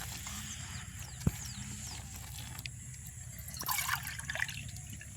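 Juice trickles into a cup in a quiet kitchen, a soft, brief splashing pour preceded by a single small knock.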